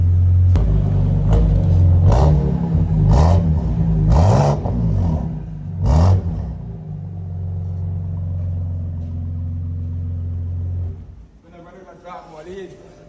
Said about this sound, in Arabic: سامعين الصوت؟ بسيطة بس. ماشي خد يا اسلام صور الشكمان.